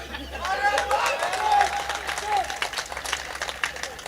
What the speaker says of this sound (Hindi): अगर सहमत हो वही लोग ताली बजाएं।